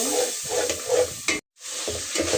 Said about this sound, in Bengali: মাছটা ভালো করে কষিয়ে নেব